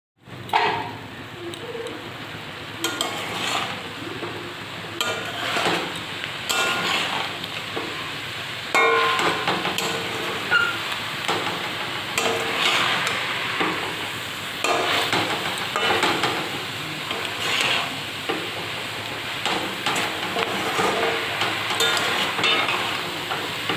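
Fried prawns are stirred into vegetables for a prawn chachari, with a spatula scraping and clinking against the pan over a soft, steady sizzle. The stirring goes on at a close, moderate level with no talking.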